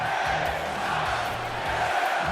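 WWE 2K26 arena crowd cheering for a wrestler during a match, a dense continuous roar of many voices with rising chants, loud and steady throughout.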